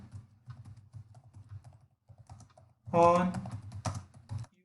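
A room name is typed on a computer keyboard as a steady patter of close key clicks, followed by a denser, louder flurry of keystrokes, while a voice speaks briefly.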